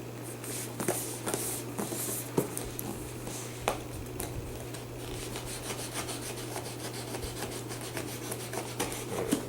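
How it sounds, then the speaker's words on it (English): Cardboard packaging of a Samsung Galaxy Tab 2 7.0 being opened, with steady close rubbing and scraping of the box and sharp little clicks and taps scattered throughout, over a constant low hum. "as we just open the box here, turn it up here."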